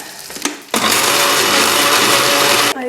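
A blender whirs loudly and steadily for about two seconds, blending a mayonnaise dressing with white vinegar, anchovies and Parmesan, then cuts off abruptly after a few soft handling knocks at the start.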